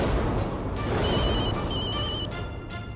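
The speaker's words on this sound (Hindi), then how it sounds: "इंस्पेक्टर राणा, आप मुझे कॉल कर रहे हैं?" A telephone rings with a repeated electronic trill in two short bursts, set against a dense, dramatic background of music and noise in a Hindi TV serial scene.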